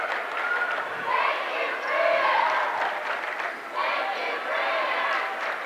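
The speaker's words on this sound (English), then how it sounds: "Vincennes' cheer block is giving a very warm exit for Grant Oxman. They cheer thank you, Grant" A high school basketball crowd at a sectional final cheers and chants for a departing lone senior player, a loud, rolling roar of voices that swells and dips across the stretch.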